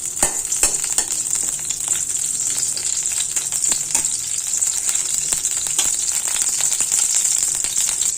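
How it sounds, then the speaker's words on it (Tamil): Whole spices such as bay leaf and cinnamon frying in hot oil for a mutton and radish kuzhambu, a loud, continuous, crackling sizzle with dense popping throughout. "இது நல்லா பொரியட்டும்."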